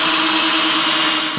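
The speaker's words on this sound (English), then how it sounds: "you just got to drill that rivet out" A power drill whines loudly and steadily as it bores out a rivet on a lamp, a close, continuous high-pitched grind with a slight drop in pitch near the end.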